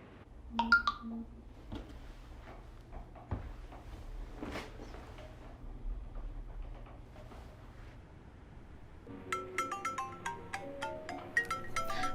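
A mobile phone ringtone in a Chinese TV drama scene: a bright, repeating electronic melody rises in the last few seconds after a stretch of quiet room ambience with faint low rumble.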